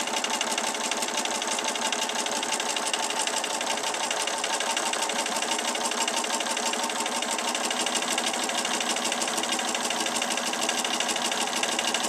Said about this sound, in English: You just sew right on down on each side of that line.